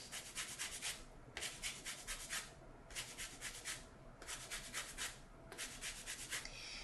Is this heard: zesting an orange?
yes